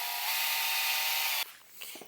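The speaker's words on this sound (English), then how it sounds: "we're going to drill these holes, and we're going to start off with a 1/8 inch drill bit" An electric drill with a 1/8 inch bit bores pilot holes while building a tube amplifier headphone adapter. It gives a bright, steady whirring grind for about a second and a half, then stops, followed by faint handling clicks.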